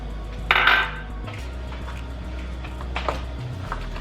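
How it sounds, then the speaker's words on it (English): Vegetables being stirred into a pot of Mexican beef stew, with a bright metallic scrape and clatter of a spoon against the pot, a quieter knock later, over a low steady hum. "we're going to mix them in lightly"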